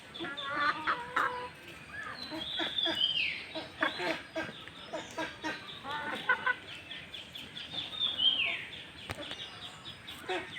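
Native Bangladeshi hens cluck and squawk close by while pecking at greens, with short repeated clucks and a few rising calls, over a busy farmyard background.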